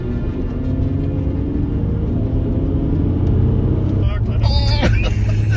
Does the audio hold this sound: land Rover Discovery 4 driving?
yes